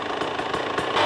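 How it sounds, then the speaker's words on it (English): A KTM 300XC two-stroke dirt bike idles with a rattly, uneven pulsing putter, close and steady over a brief moment with no speech. "Sounds nice and rattly like this KTM always has."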